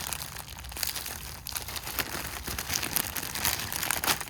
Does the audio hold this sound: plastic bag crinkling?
yes